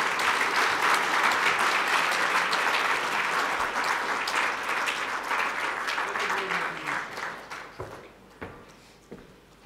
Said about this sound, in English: Can you give the Minister another round of applause, please?